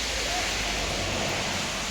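Rain falls steadily outdoors in a Kerala home setting, a dense, even hiss that stays constant and fairly loud for the whole short stretch, with no voices.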